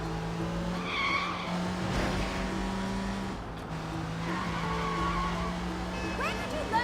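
A car driven hard in the Sleeping Dogs video game, steady engine drone with repeated tire squeals and skids, a voice briefly talking over the driving noise.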